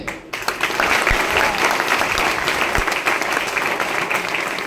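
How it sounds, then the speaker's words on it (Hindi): Sustained applause from a large audience at a business meeting in Nadiad, a dense steady wash of clapping that fills the whole stretch with a few sharper individual claps standing out. "ताली कैसा होना चाहिए?"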